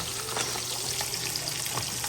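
Food sizzles and crackles in a frying pan, a steady close hiss with scattered pops and a little stirring, no talking.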